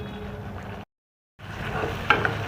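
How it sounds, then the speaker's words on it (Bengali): Masala spice paste fries in oil for a prawn and potato curry, a soft steady sizzle interrupted by a brief silent gap before the sizzling resumes with a few light stirring knocks. "মশলাটা ভাজা হয়ে যাচ্ছে পুরো ভালো করে, তেলও ছেড়ে দিয়েছে।"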